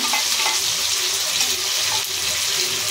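Loud, steady sizzling of tomato, slit green chilies and ginger paste sautéing in a pan, with a continuous hiss and occasional stirring scrapes throughout.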